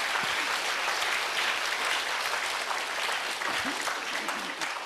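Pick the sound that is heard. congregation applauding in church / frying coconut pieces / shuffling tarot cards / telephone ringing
congregation applauding in church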